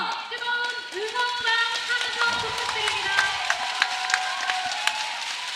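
Crowd rising behind the Korean side at a rugby sevens match against China, a broad roar of cheering and clapping swelling under steady whistles and a commentator talking throughout.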